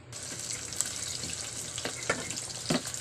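Garlic, onion and ginger frying in a pan, giving a steady close hiss and sizzle with a few sharper crackles and light stirring clicks, and no voices.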